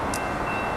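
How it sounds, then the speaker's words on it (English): A train rumbles past, a steady, dense low roar with a brief high squeal near the start, continuous and moderately loud, with no speech over it. "oh, there goes the train"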